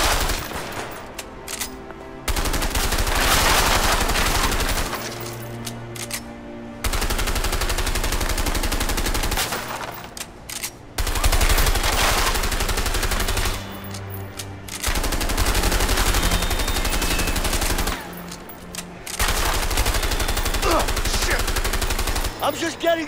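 Sustained bursts of automatic gunfire from the video game A Way Out, loud and dense, coming in several long volleys separated by brief pauses, with a voice occasionally heard between them.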